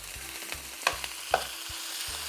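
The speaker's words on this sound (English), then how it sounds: "start off cooking this meat without any seasoning" Ground beef for Jamaican beef patties browning in a pan without seasoning, a steady soft sizzle broken by several sharp scraping stir strokes, close up and without voices.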